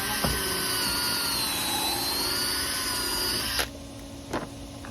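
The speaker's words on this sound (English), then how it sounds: "We're just going to drill in there." A power drill whines loudly and steadily while boring a hole to mount a sun shade sail on a backyard patio, then cuts out, followed by a couple of brief knocks.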